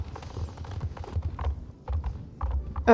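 Horse hooves clip-clop in the Star Stable Online video game. The steps come in steady, rhythmic groups at moderate volume, and a short bright tonal cry closes the sequence.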